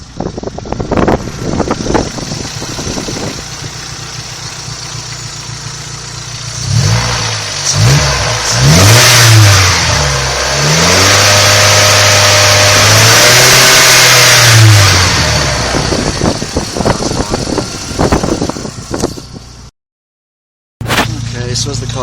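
A Vauxhall Astra Mk4 engine starts and revs up hard several times, then settles into a steady run while warming up, heard up close with wind buffeting and a brief dropout near the end.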